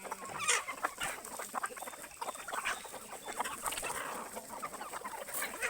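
Chickens cluck and chatter continuously while being fed corn in the morning, a dense flock of overlapping clucks and squawks at moderate distance with no voices over them.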